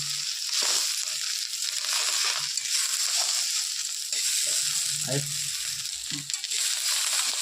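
Pea greens sizzling in a pan for khichuri, a steady frying hiss with occasional stirring scrapes, while someone talks softly in the background.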